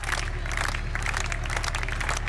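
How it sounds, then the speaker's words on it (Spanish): Mourners applauding at Raffaella Carrà's funeral, sustained crowd clapping that stays even and fairly distant throughout, with no voices rising above it. "los fieles de la musa no escatimaron en aplausos"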